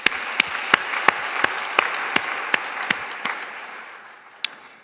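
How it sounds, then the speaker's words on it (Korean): A church congregation at a Sunday worship service applauds together, a dense, steady wash of clapping with rhythmic louder claps punctuating it before it gradually fades. "우리 주님 앞에 영광의 박수 올려드립니다."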